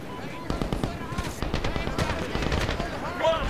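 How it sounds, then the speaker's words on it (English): Covering gunfire in the war game Medal of Honor 2010: rapid automatic bursts and scattered shots crackle continuously at mid distance, with voices mixed in underneath. "Covering fire, that's firing for effects."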